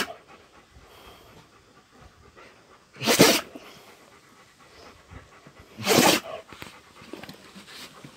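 A Central Asian Shepherd dog (Alabai) sneezes twice, two sharp bursts about three seconds apart, close and loud between quieter panting and snuffling.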